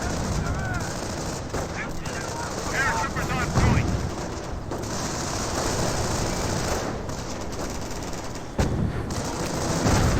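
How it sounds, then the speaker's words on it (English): A mortar shell explodes amid constant machine-gun and rifle fire in a Company of Heroes 1 battle, the blast a brief boom within a dense, steady wash of combat noise under a commentator's voice. "Good hit there by the mortar"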